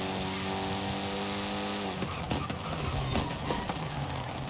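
A Mitsubishi Evo time attack car in Forza Horizon 5 revs hard against the limiter, its engine whine holding steady and then breaking off into rough shifts, turbo bursts and tire noise, loud and continuous.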